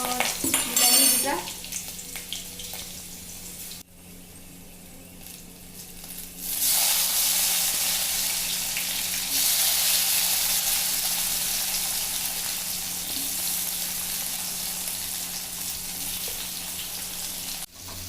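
Tomatoes for an Assamese sour fish curry fry in a pan. A few clatters and stirring noises come first, then a loud, continuous sizzle settles in and holds steady close by.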